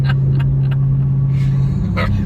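A Dodge Hellcat muscle car with a 1000+ horsepower engine rumbles steadily at idle nearby, a deep continuous drone with brief higher bursts, while people talk faintly over it.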